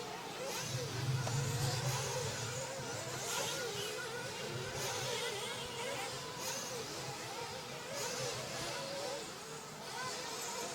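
A 1/8 scale off-road RC car engine revs on a track during a European championship race, a buzzing whine rising and falling at a distance under faint commentary.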